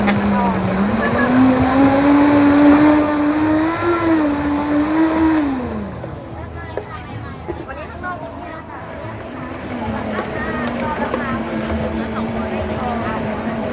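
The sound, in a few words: blender crushing ice for coconut smoothie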